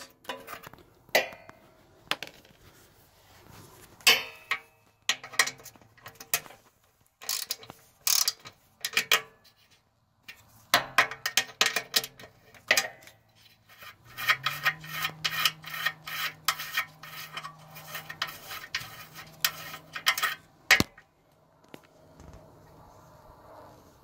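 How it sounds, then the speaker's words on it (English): A wrench removes screws from a Coleman minibike engine. Scraping and ratcheting clicks come in irregular bursts with short pauses, close and fairly crisp. "I'm actually going to take my wrench and pop these two screws off."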